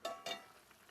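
A spoon stirs banana stem aviyal as it boils in a pot, making two short wet scrapes close by followed by a faint simmering bubble, with no voices.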